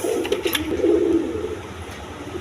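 A male Bantinet pigeon coos at a farm, a low soft burble rising and falling in short phrases, close by and alone over faint background hum.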